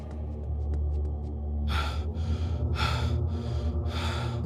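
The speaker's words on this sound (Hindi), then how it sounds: "वे लोग दौड़ते दौड़ते हांफने लगते हैं।" Several people pant heavily after running in a horror story scene, with rapid, loud gasping breaths following one another in a steady rhythm over a low rumbling background.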